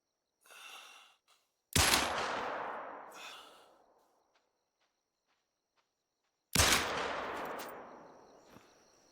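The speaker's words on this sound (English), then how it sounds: "Can we make a shot on one of them from this range with the pistol?" Two loud pistol shots in the hunting game The Hunter Classic, each a sharp crack trailing into a long echoing decay across open terrain, a few seconds apart, with faint footsteps before the first.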